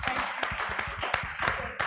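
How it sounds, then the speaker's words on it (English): Audience applause for conference panelists at a talent management conference, a steady, dense patter of many hands clapping close by throughout, with a few sharper claps standing out. "Can we give the panelists a round of applause"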